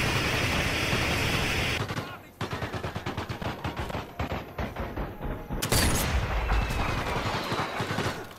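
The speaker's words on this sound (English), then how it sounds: "Are they bombing the house?" Rapid bursts of automatic gunfire and heavy explosive booms in the Sniper Elite VR video game, loud and dense, with a brief quieter gap before the shooting resumes and a big blast partway through.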